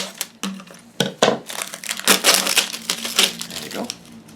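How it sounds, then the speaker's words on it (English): Strong scissors cut across a flattened plastic bottle, giving a series of sharp crunching snips and crackling crinkles of plastic, close and loud, coming in quick irregular bursts. "with my scissors, cut more easily right across"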